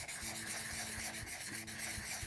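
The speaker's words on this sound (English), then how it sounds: "take that sandpaper and just keep sanding and sanding and sanding" Rough-grit sandpaper rubs back and forth over the plastic housing of a power tool being restored, a steady scratchy rasp in repeated strokes, close up with no talking.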